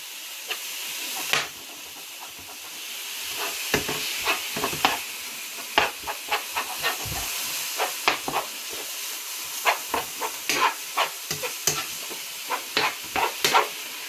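Meat for chilli browns in a pan with a continuous hiss of frying, broken by repeated scraping and knocking as a spoon stirs it around.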